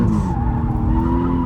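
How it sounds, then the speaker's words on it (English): Car tires skid and squeal continuously as the car is thrown into drifting donuts, the engine droning loud and close underneath with no pauses. "So donut, steer in the other direction, and use the weight of the car."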